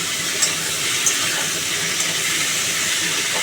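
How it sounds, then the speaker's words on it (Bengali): Malabar spinach stalks frying in a pan give a steady, fairly loud hiss with a few faint clicks, heard alone without voices. "ডাটাগুলো একটু ভাজা ভাজা হবে"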